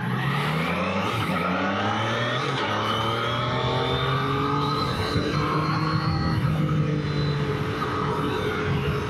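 A Triumph Daytona 660 sportbike being ridden on a damp road through a city district, its engine note loud and continuous, climbing and falling in pitch as the rider works through the revs.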